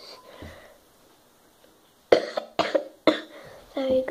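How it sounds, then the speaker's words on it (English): A person coughs in several close, loud bursts after a quiet stretch, the fits coming in quick succession. "So you got a cough."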